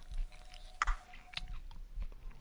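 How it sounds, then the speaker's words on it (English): A Kit Kat candy bar is chewed close to the mic, giving a crisp bite followed by soft, moist crunching and mouth sounds in an uneven rhythm, with no speech. "chewing my Kit Kat"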